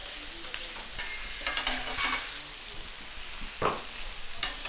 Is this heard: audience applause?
no